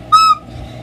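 A recorder sounded with the back thumb hole left uncovered gives one brief, bright whistle-like note, close and fairly loud, fading into faint room noise.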